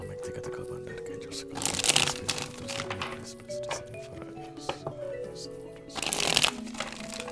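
Tarot cards are shuffled in two bursts of crisp riffling and flicking, close and fairly loud, while a person talks throughout.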